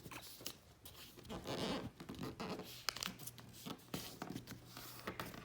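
A sheet of paper is folded underneath while shaping an origami crab, giving close, quiet crinkles, rustles and short scraping strokes that come in irregular bursts, with no speech.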